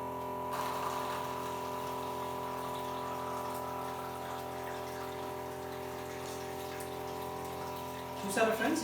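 Water running steadily from an alkaline water ionizer machine with its motor on, producing a continuous even flow and hum that sounds close, ending with a brief louder splash or clatter near the end.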